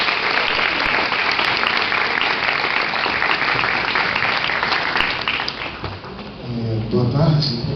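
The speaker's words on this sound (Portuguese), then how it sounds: "Podemos aplaudir." Audience applauding at a ceremony for the National Day of Transvestite and Transsexual Visibility, steady dense clapping that thins out near the end as a voice speaks.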